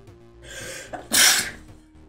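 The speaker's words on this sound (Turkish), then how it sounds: "Şimdi ben yine hapşıracağım bol bol." A single loud sneeze bursts out after a brief inhaled build-up, close to the microphone, followed by quiet breathing.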